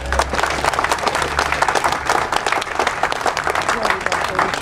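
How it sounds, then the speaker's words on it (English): Audience applause at the opening of the Silver Lake Library, a dense, steady round of clapping from a crowd, loud and sustained throughout. "So let's give the library department a round of applause."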